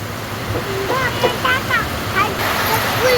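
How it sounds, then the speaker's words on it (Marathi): Heavy rain pours steadily during a thunderstorm with a dense, continuous rushing wash, close and loud, while a person talks over it; no distinct thunder clap stands out. "फार पूर्ण गरजत आहे आणि चांगला पाऊस चालू झालेला आहे"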